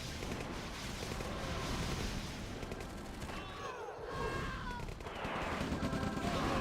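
Constant gunfire and distant explosions of a large video-game battle rumble on together, loud and dense, with no single shot standing out.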